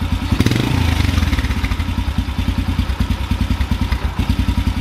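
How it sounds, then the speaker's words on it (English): A motorcycle-type engine runs with an overly rich carburetor mixture, its idle rough and uneven. It gives a close, loud, lumpy putter with irregular firing pulses and no talk over it. "Idle is way rough."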